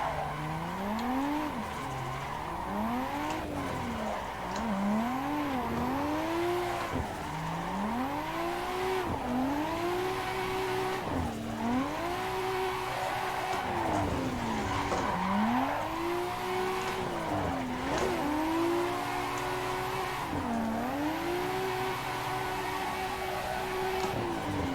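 A simulated car in Assetto Corsa drifts under a hard e-brake drag, its engine rising and falling in repeated revs while tires squeal and skid continuously throughout.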